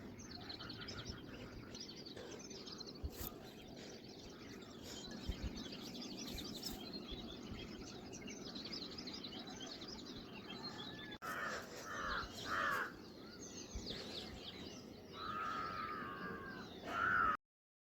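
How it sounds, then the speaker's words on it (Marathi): Crows cawing repeatedly around a rooftop terrace at sunrise, with other birds chirping, over steady outdoor ambience; the calls come in several loud bursts late on, fairly close. "तर अशी पक्ष्यांची किलबिल आणि छान असं सूर्योदयाचं व्हिडिओ आहे,"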